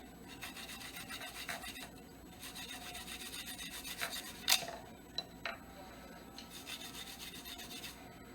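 Garlic is rasped against a grater for a home remedy, a steady soft scraping rub that runs continuously at close range, with a few sharper ticks partway through.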